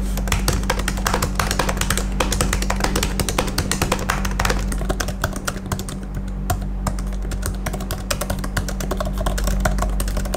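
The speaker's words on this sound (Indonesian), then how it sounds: "kalau kita bandingkan tes suaranya juga butterfly keyboard itu lebih berisik dibandingkan Magic Keyboard yang ada di MacBook Air 2020 ini" Typing on the Magic Keyboard of a 2020 MacBook Air, a rapid, continuous stream of soft, close key clicks with a steady low hum underneath.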